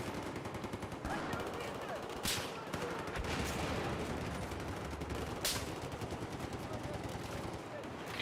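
Sniper rifle gunfire in the video game Battlefield 4, heard as a few sharp, loud shots spaced seconds apart over dense, continuous game noise and rumble, with no voice over them.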